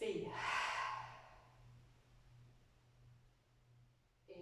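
Slow, breathy exhale during a workout stretch, heard close and audible at the start and then fading into quiet room hiss with a faint low hum, followed by a brief sound at the very end.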